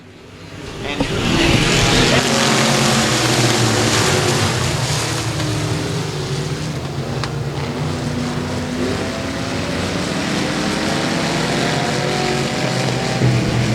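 Pro Mod race cars roar continuously around the Boothill Speedway oval, a loud sustained engine drone with shifting pitch as the pack circles; a track announcer's voice is faintly mixed beneath.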